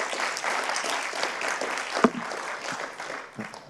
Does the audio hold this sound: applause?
yes